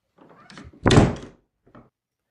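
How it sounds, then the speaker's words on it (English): Door closing with a solid thunk, preceded by faint shuffling and followed by a soft footstep-like knock, then quiet. "with that, the door closes, and you hear him walk away."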